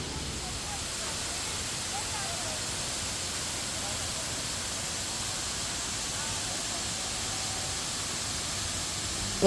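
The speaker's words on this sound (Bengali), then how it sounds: "আর এই সাইডে হচ্ছে ঝর্ণা" A man-made waterfall in Dubai, heard up close at dusk, makes a loud, steady, unbroken rushing roar that fills the whole stretch.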